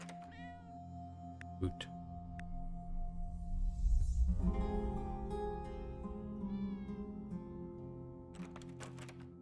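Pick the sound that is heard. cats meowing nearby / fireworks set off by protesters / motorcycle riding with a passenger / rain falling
cats meowing nearby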